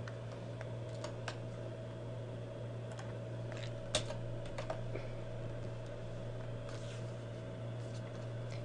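A computer keyboard tapped in short, scattered keystrokes while a URL is entered, the clicks sitting over a steady electrical hum, close and fairly quiet.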